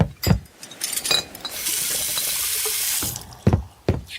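Water runs from a tap into a sink to fetch drinking water, a steady gush of about a second and a half framed by sharp knocks and handling clatter before and after.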